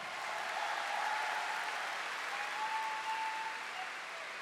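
Dense, continuous audience applause fills a large concert event at a music night, sustained and even with a faint tonal hum in the background and no talking.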